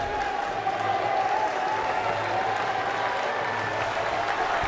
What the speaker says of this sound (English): Look at this support, look at the cheer, look at the ovation.